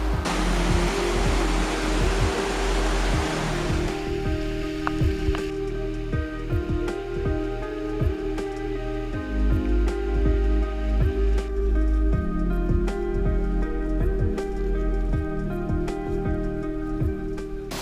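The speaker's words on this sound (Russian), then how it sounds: "Мы наконец-то дошли до этого великолепного водопада." A powerful waterfall on the Putorana Plateau pours with a dense steady rush, loudest at first, then mixed with tonal hum and intermittent knocking or clicking noises close by.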